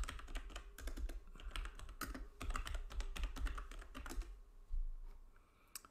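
Rapid keystrokes on a computer keyboard entering a search for a recipe image, a dense run of crisp clicks for about four seconds that then thins to a few last taps, close up with no talking.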